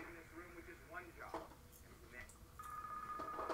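A telephone rings in the Deal or No Deal video game, a steady electronic tone that comes in near the end over busy game-show chatter and background noise.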